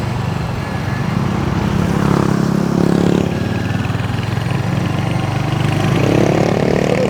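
Royal Enfield Hunter 350 single-cylinder motorcycle ridden through Cebu City streets, its engine thrumming loud and close with steady rises and falls in revs as it cruises.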